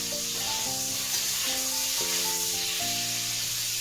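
Potatoes fry in a pan during preparation of a cauliflower and koi fish curry, giving a steady, close sizzling hiss beneath louder background music.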